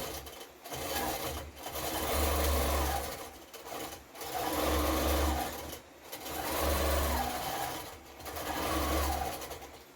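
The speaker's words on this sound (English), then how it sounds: "it's gonna finish stitching out." An embroidery sewing machine stitches out a design with a steady, fast, close mechanical whir and chatter that swells and pauses in regular cycles of about two seconds, running alone without talk.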